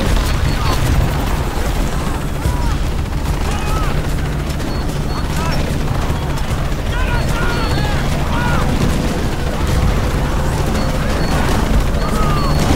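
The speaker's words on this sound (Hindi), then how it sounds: "ये तो वही तो गोली चला रहे हैं" Gunfire from enemies in the video game Shadow of the Tomb Raider, a dense, continuous clatter of shots and impacts under game music and effects, with speech-like sounds mixed in throughout.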